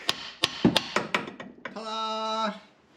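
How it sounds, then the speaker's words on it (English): Several sharp hammer blows on a Land Rover Discovery 3 steering rod ring out in quick succession, followed by a sustained tonal hum. "use the hammer."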